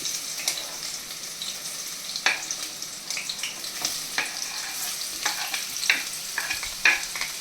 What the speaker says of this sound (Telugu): ఆయిల్ 2 spoons ఆయిల్ అంట. ఆనియన్స్ వేసుకోవాలి.